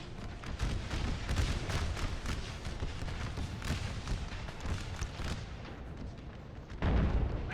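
Distant artillery and musket fire rumble continuously across an American Civil War battlefield in Napoleon Total War multiplayer, a dense, low, crackling roar of overlapping booms, fairly faint throughout.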